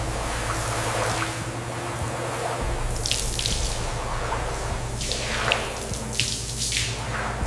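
Water runs and drips off the body of a 1959 Cadillac Eldorado Biarritz being rinsed during restoration, a steady close trickle broken by splashy spurts and drips, with no voices.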